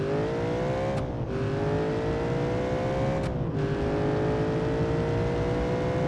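A 1980s Italian racing car engine in BeamNG.drive holds a loud, steady high-pitched drone, briefly dipping in pitch twice as gears shift, then climbing again.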